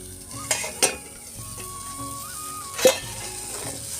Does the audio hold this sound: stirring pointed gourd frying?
yes